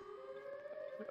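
Wailing siren cry of the Siren Head monster in a video game, a steady droning tone that swells into a louder, harsher burst at the very end.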